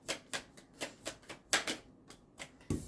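A tarot-style deck of cards taken out and shuffled in a fortune-telling reading, giving a series of crisp riffling bursts in an irregular rhythm, close and fairly quiet, with a firmer tap near the end.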